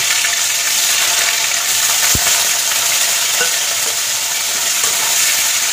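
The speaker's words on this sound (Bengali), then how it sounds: "তো এটাকে আমি হালকা লাইট ভেজে নেব।" Paneer pieces fry lightly in a pan with a loud, close, constant sizzle, broken once by a sharp knock and a few faint stirring scrapes; no one talks.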